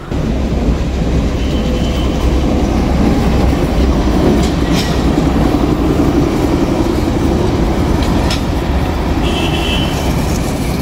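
The Darjeeling Himalayan Railway toy train runs near Rangtong station, a steady rolling rumble with clattering wheels and metallic squeals, loud and close throughout without speech.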